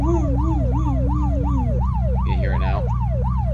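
Wailing emergency vehicle siren in the video game Unturned, a steady rising-and-falling yelp repeating about every half second, loud and continuous over a low engine drone, with a brief burst of other noise near the end.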